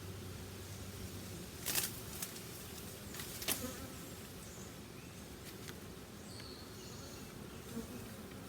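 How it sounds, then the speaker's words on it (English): Honey bees buzz steadily over a hive comb during hive work, a continuous close insect drone with a few brief brushing or handling noises and no talk. "we'll brush the bees off of it"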